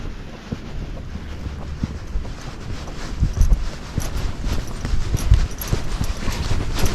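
A Rocky Mountain Horse walks downhill on a trail, its hooves thudding in an uneven, muffled rhythm close to the microphone, mixed with heavy wind buffeting and rustling.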